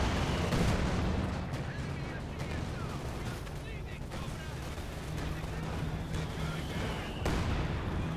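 A strafing run in Company of Heroes 2 rakes the ground with rapid, continuous gunfire and booming impacts, a dense rumbling barrage that keeps going throughout with a few sharper cracks standing out.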